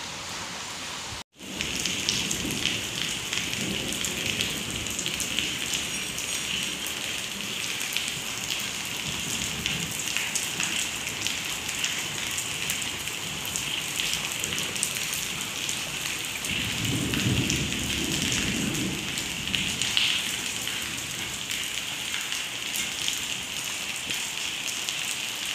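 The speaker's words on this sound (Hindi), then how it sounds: "ये देखो जी बिल्कुल बारिश हो रही है जोर जोर की" Heavy rain pours steadily and loudly throughout, with a brief sharp break near the start and a low rumble swelling partway through, like distant thunder in a windy, cold storm.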